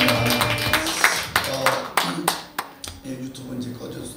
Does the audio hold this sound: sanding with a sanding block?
no